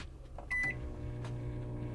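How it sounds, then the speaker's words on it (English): A microwave oven powered by a Bluetti AC200L portable power station hums quietly and steadily, with a short electronic beep near the start. "Let's see, we got the microwave on."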